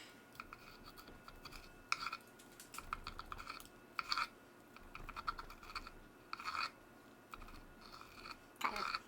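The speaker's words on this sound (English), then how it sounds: "So let's go ahead and cut into these." A knife slices through smoked pork spareribs fresh off a Rec Tec Mini pellet grill, giving soft, irregular crackles and scrapes of blade through tender meat and bark, faint and close, with no talking.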